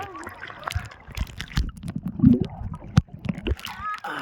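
Water splashes in the sea as a swimmer ducks under, a few scattered sloshes and splatters close by, with voices chattering over the top.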